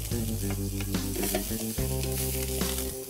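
Chopped onions, red and green pepper, carrots and boiled yellow corn are tossed in a hot pan, a loud, close, continuous sizzle with repeated stirring and scraping clatters throughout.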